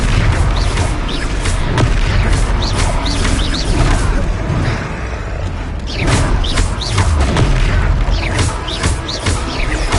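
In the video game Hogwarts Legacy, Confringo spell explosions burst as loud, dense booms and crashes over a steady mechanical rumble, with repeated impacts and no clear talk.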